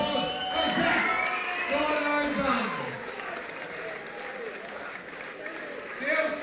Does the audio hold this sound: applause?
yes